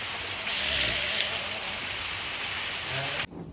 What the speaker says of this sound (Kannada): ಮಳೆ ಫುಲ್ಲು ಜೋರಾಗೋಯ್ತು ಫುಲ್ಲು ಮಳೆಯಲ್ಲೇ